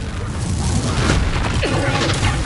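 Spell blasts from the video game Hogwarts Legacy: a dense, continuous rumble of magical explosions and crashes, loud and close, sustained without pause.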